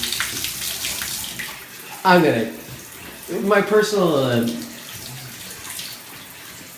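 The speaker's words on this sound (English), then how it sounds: "And I turned on the shower" A shower runs during a house inspection, giving a steady hiss of spraying water across the room while two people talk loudly over it.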